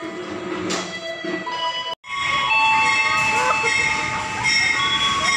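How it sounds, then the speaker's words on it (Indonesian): Loud rumble and screeching of the Pasundan passenger train pulling into Tasikmalaya station, Indonesia, with a steady mechanical hum and high metallic squeals, nearby. "kereta datang."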